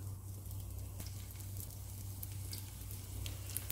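Aval adai dosa cooking on a pan with ghee or sesame oil, giving a faint, steady sizzle with soft crackles under a low constant hum.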